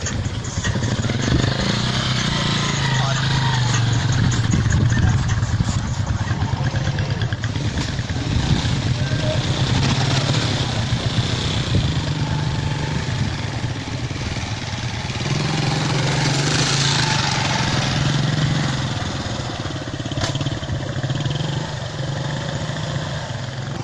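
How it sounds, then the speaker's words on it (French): A motorcycle engine runs steadily and loud at close range on a frost-damaged dirt road bridge near Guéfigué, a continuous mid-pitched drone with some clatter and slight rises in intensity, no talk over it. "Je suis avec une moto, vous voyez, sur le pont."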